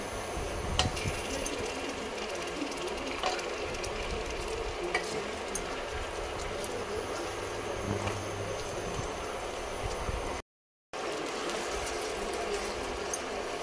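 Washed mutton with a little turmeric fries in a pan for a village-style mutton curry. It gives a dense, continuous crackling sizzle, and the stirring adds scrapes and clatter. The sound drops out briefly near the end.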